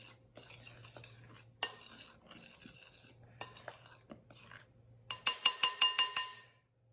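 Dry naan bread ingredients being mixed in a bowl, with soft scraping and stirring clinks of a utensil against the bowl, ending in a quick run of sharper rhythmic taps, close and fairly quiet.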